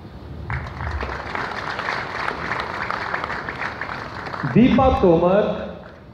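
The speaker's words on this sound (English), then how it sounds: "I would request the audience to applaud the awardees" Audience applause at an award ceremony for the 4th WCDM 2019, a dense steady clapping from a crowd that carries on throughout, with a voice speaking over it near the end.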